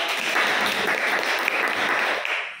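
A classroom group applauds a student named Rika, a short burst of dense clapping that holds steady and then tapers off at the end.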